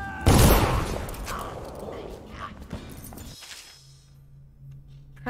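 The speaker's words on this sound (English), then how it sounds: "Explosion." In the video game Dishonored, a loud explosion erupts, followed by a rattling burst of gunfire and debris that fades into a quiet mechanical hum.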